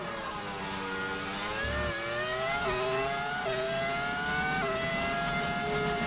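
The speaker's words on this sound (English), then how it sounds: "I did use a mod to put the V10 engine sound in." A modded V10 engine sound on an F1 25 race car in the video game, revving loud and steady with rising pitch sweeps through gear changes, continuous and close throughout.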